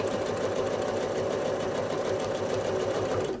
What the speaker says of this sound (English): Now I'm going to continue travel stitching all the way back to my starting point.